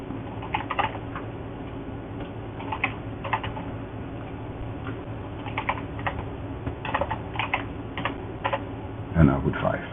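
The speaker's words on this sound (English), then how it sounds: "So we can start typing." Steady computer-keyboard typing in clustered bursts of keystrokes, close and moderately loud, over a constant low background hum, with a louder thump near the end.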